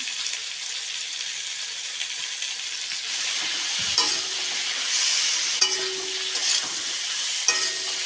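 Winter vegetables sautéing with cumin paste in a pan, a steady sizzle with occasional scrapes and stirring clinks, close and moderately loud, no talking.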